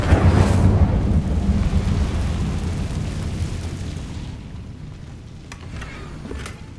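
Incendio fire spell cast in the Hogwarts Legacy video game, a loud rushing burst of flame and roar that slowly fades into a softer crackling tail with a few faint clicks.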